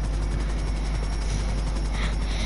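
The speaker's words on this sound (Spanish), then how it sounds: "el helicóptero me está fallando muchísimo." A helicopter in the video game GTA V, a loud continuous rotor thump and engine drone with a steady rhythmic chop, close and alone without talk.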